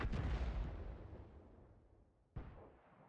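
Artillery fire in the tank battle game World of Tanks: a heavy, distant boom that rolls away slowly, followed a couple of seconds later by a second sharp blast with its own fading tail.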